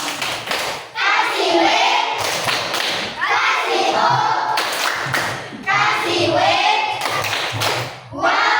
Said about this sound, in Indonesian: kita kasih tepuk pom